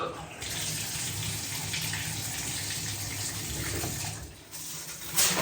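A Delta In2ition rain shower head sprays a steady, full hiss of water, close and constant for about five seconds, briefly dipping near the end before surging again.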